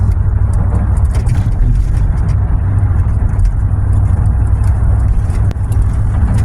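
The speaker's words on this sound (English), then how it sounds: "we're gonna go across the Golden Gate Bridge" Car driving across the Golden Gate Bridge, a steady loud road rumble and engine drone heard from inside the vehicle, continuous with no talking.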